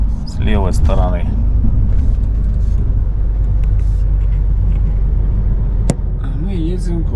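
Car driving through the area around Manzhouli, heard from inside the cabin as a steady low road rumble and engine drone, with people talking over it.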